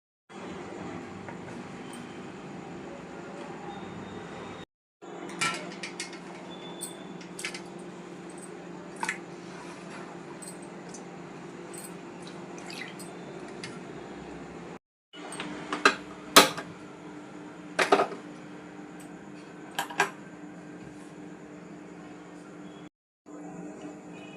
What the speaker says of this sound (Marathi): इथे आपले छिलके बॉईल होत आहे